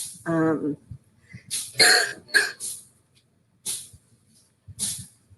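A short vocal burst is followed by several harsh, breathy coughs spaced irregularly, close and fairly loud with quiet gaps between.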